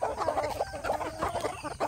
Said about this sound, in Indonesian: ini yang jago ini sedang berkumpul di sini, sedang rapat para jago